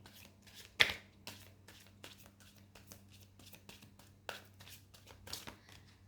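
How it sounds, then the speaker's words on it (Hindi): Thin tarot cards are shuffled quickly by hand, giving faint riffling and flicking bursts with one sharper snap near the start, in a quiet room with a low hum. "ओके, कुछ कार्ड्स गिर गए हैं, ये नहीं लूँगी, एक बार क्विक शफल।"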